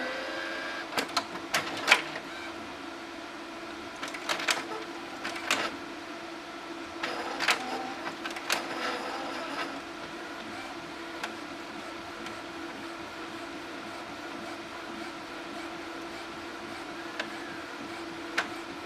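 An Epson Artisan 837 printer prints onto a CD, giving a steady mechanical whir punctuated by a series of louder clicks and feed clunks in the first ten seconds, then a quieter continuous run.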